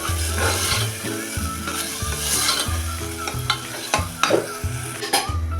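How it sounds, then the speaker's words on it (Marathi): Spice masala with onion-garlic chutney sizzling and frying in oil, stirred steadily with a spoon scraping the pan in a home kitchen; continuous close sizzle with rhythmic stirring and clinking throughout, no talk. "मसाला तेल सुटेपर्यंत परतून घ्यायचा आहे मसाल्याबरोबरच आपण ही दोन चमचे कांदा लसूण चटणी टाकणार आहे"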